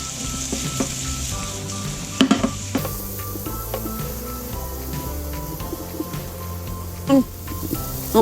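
Bacon crackles and sizzles in a small pan on an induction cooktop, with butter added, as a steady close hiss broken by a few sharper pops and spits.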